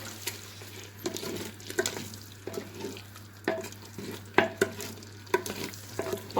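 Mutton liver with fresh coriander frying in a pan, a steady sizzle under repeated scraping and clattering stirs from a spatula, close and moderately loud, with a low constant hum underneath.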